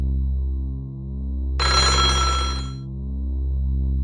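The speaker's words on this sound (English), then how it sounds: "now we're hearing ringing from a tree" In the KiriGiriso game, a telephone rings from inside a large tree as one loud, close burst of bell ringing over a steady low hum.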